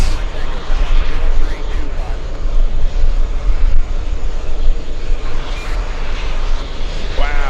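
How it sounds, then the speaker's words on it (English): A Lufthansa Airbus A380 airliner on final approach to runway 22 left on a windy day, its engines a loud, steady roar that dominates throughout, with a voice talking intermittently underneath. "Right on time to see the Lufthansa A380 flying in from München"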